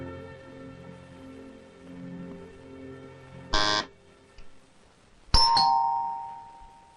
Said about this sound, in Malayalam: ആ കോളിംഗ് ബെല്ലൊന്ന് അടിച്ചു നോക്ക്.